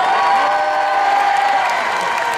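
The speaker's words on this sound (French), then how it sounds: "Je pense que vous pouvez l'en dire debout et en applaudissant." Audience applauding and cheering at a One Piece cosplay parade show, a dense, steady wash of clapping and crowd noise with scattered whoops filling the whole stretch.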